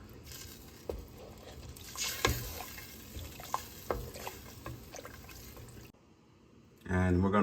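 Red wine and beef stew mixture with rosemary is poured into a pot and stirred, giving soft liquid sloshing and scraping knocks at close range, followed by a louder rumbling burst at the end.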